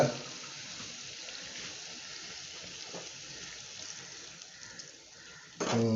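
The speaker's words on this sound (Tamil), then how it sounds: "கொஞ்சம் தண்ணி சேர்த்துப்போம்" Water is poured from a vessel into a pan of brinjal being cooked into a spiced thokku. It makes a soft, steady trickle for several seconds, then ends with a louder clatter.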